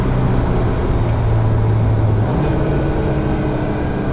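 A 1974 BMW 2002tii with a five-speed gearbox pulls strongly at about 4,000 rpm, its engine a steady, loud, continuous drone with a constant pitch that shifts slightly partway through, with no talking over it.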